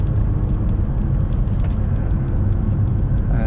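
A first-generation Honda S2000 drives around Horsetooth Reservoir near Fort Collins, Colorado, giving a continuous, loud, low engine rumble with road and wind noise and no break.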